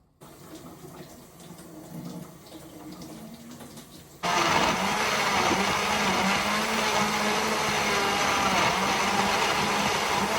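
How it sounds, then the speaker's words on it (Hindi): A kitchen blender switches on abruptly partway through and runs loud and steady with a dense whirring roar, after a quieter stretch of background noise. "तो इसको मैंने ब्लेंडर में ब्लेंड"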